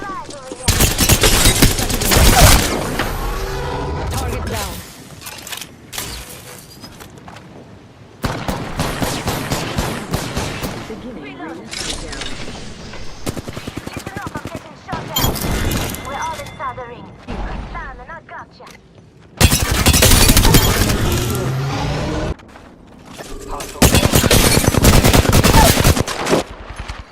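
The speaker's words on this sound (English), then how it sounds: "They're shooting at me." Rapid automatic gunfire crackles in an Apex Legends match, coming in several loud, dense bursts separated by quieter gaps with mechanical clicks and clatter.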